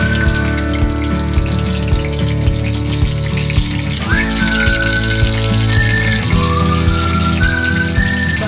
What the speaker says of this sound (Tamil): இப்போ வந்து எண்ணெய் காய்ச்சிருச்சு. வந்து நம்ம வந்து பச்சை மிளகாய் போடலாம்.